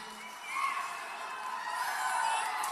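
A large crowd at a 2016 Donald Trump campaign rally in Florida cheers as a steady, distant-sounding roar of voices and shouts that swells slightly, with no speech on top.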